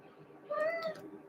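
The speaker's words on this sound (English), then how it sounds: "Because the cat is going ballistic." A cat gives a single drawn-out meow, rising and then falling, fairly close in a quiet indoor room over a low background hum.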